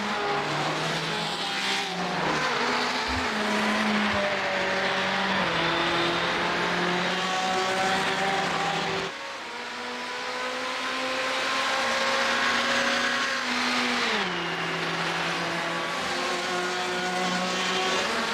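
A race car in a NASA GT Americas race at Daytona heard on board, with a loud continuous engine drone rising and falling through shifts and corners, a brief dip in the middle and no talk.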